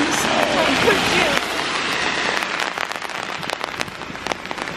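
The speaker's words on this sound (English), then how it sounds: "Let this rain happen." Outdoor rainfall, a steady hiss of falling rain with scattered sharp drop impacts on nearby surfaces, while voices talk and exclaim over it.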